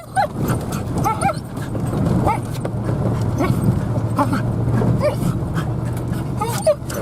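Dogs on a trip to a homestead stage coach stop: nearby whimpers, yips and panting come in short bursts throughout, with people talking now and then.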